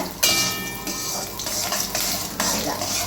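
Shredded cabbage with urad dal sautés in hot oil in a pan, giving a steady close sizzle broken by repeated scraping and clinking stirs of a spoon against the metal.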